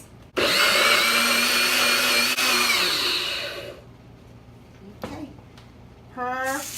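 Kitchen blender whirring loudly as it purées tomatoes, onion and garlic for Spanish rice, a steady high motor roar for about three seconds that winds down, followed by brief clatter and a short spoken phrase near the end.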